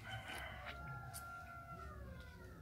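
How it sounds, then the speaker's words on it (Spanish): Roosters crowing in the distance in the countryside during orange cutting, long drawn-out calls overlapping faintly against a quiet outdoor background. "Allá se oyen los gallos."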